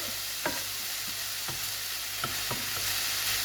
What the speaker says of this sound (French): vous n'hésitez pas à écraser les petits morceaux de viande